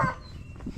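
A rooster on a backyard flock crows once in a brief, close fragment, a bright harmonic call that fades quickly into low background noise.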